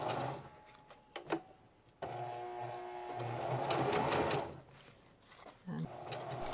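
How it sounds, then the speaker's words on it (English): A sewing machine zigzag-stitches two pressed-together ribbons using gold metallic thread, running in a steady mechanical whir for several seconds, with brief starts and stops and clicks around it. "here I am sewing with gold metallic thread"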